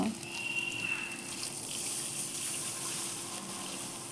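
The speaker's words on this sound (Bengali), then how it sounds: "কষানো হয়ে গেলে এটা আমি জল দিয়ে দেব" Water pours into a pan of cooking fish curry made with tengra fish and taro stems, a steady soft gushing and hissing that runs throughout at a moderate level.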